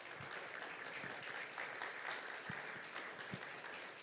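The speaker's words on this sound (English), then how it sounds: "Quick round of applause for our panelists." Applause from a conference audience for a leadership panel, a steady wash of clapping at moderate distance that holds for about four seconds.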